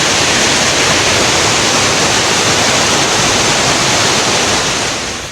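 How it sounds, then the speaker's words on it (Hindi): Torrential floodwater rushing after heavy monsoon rain at the Pavagadh hill shrine in Panchmahal, Gujarat, a loud, steady, broadband roar filling the whole stretch without pause. "बारिश के पानी का बहाव इतना है कि सब कुछ अपने साथ बहा ले जाने को बेताब है।"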